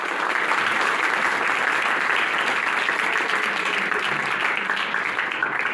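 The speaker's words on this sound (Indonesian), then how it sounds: "Tepuk tangan untuk Tuhan kita." Steady, dense audience applause at a church retreat session, sustained evenly throughout at a constant level with no voices breaking through.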